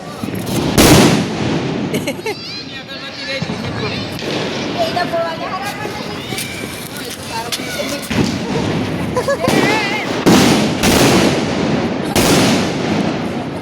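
Diwali firecrackers burst among friends in Gandhinagar, a loud string of sharp cracks and bangs repeating irregularly throughout, with people chatting and shouting between the blasts.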